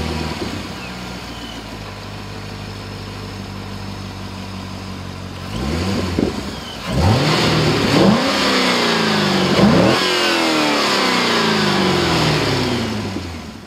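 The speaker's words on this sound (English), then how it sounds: "Now start up the car." A car fitted with a Corsa Performance air intake idles steadily at first, then its engine is revved several times in loud rising and falling bursts, with no talking.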